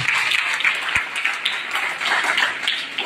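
A crowd applauds, with a crackling, steady patter of clapping hands that carries on evenly throughout.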